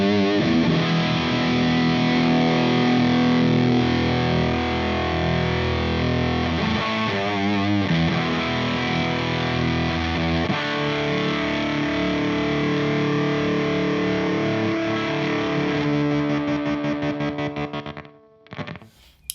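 A HangmanFX Atomic World Ender guitar effects pedal roars with thick fuzz distortion and wavering modulation. The sustained tone stays loud and unbroken, then thins and cuts out near the end.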